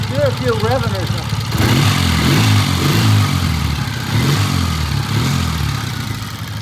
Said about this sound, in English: Do a few revving or something.